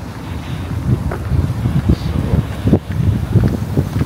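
Steady wind gusting across the microphone outdoors in Fukuoka, Japan, a low roaring rumble that swells and dips throughout, with no voices.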